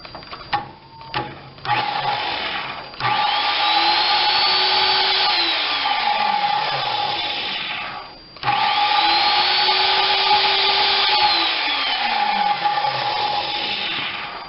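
A Skilsaw SPT77WML worm drive circular saw under repair runs up twice, each time whining up to speed, holding a steady high-pitched motor drone, then spinning down after a few seconds, with brief handling clicks at the start.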